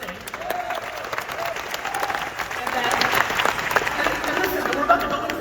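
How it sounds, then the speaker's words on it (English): An audience at an entrepreneur conference claps together, the applause thickening and growing louder toward the end, with crowd murmur and a speaking voice woven through it. "Clapping,"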